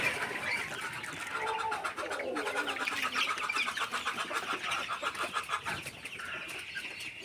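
Sonali chickens in a poultry house, a flock clucking and murmuring close by in a busy, overlapping chorus with soft rhythmic pecking and a faint engine in the background.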